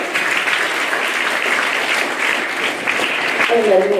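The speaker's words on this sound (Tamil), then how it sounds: "கைத்தட்டல் வந்து சூப்பர்" Steady, loud applause from a gathering at a deworming medical camp in a government girls' higher secondary school, a continuous clapping wash with a voice rising briefly near the end.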